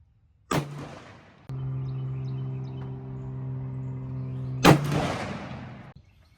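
Two loud, sharp rifle shots from a Christensen Mesa, fired outdoors on a range, each a sudden broadband crack with a rolling tail; a steady humming drone fills the gap between them.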